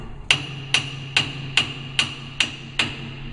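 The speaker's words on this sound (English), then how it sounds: "With the brass hammer, I can come around" A brass hammer taps a metal workpiece held down on a machine for boring a shaft hole, giving seven loud, ringing strikes at an even, steady rhythm, close and alone.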